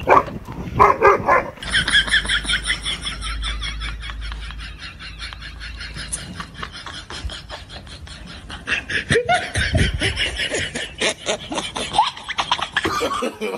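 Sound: person imitating a dog barking as a prank

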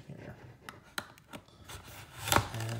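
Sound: knife cutting packing tape on a box

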